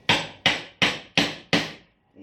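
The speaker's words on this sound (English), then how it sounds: "Keeping the chisel exactly parallel with the edges of the material." Five evenly spaced mallet strikes drive a chisel into timber to cut a mortise for a joint, each a close, solid knock with a quick decay, followed by a soft handling sound.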